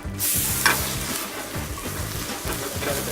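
Bell pepper sautéing in hot oil with browned garlic for chicken fajita: a steady crackling sizzle with rhythmic stirring scrapes, close and even, no voices.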